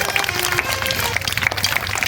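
Audience clapping to welcome a child dressed as Dhanya Lakshmi at a school harvest worship event, a dense, steady patter of applause with crowd noise running throughout.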